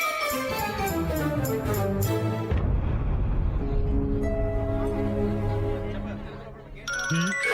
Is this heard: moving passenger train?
no